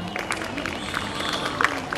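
A festival audience in Odessa applauds, a dense patter of many hands clapping at a moderate distance with a few sharper claps near the end.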